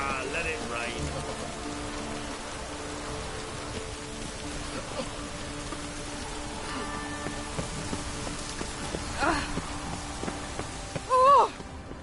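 Steady rain in The Witcher 3 falls as a constant soft hiss across the whole scene, with faint background game sounds and a brief voice-like blip near the end.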